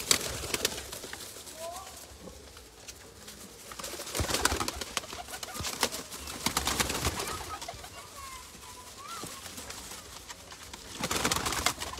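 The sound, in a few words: Taddy pigeons cooing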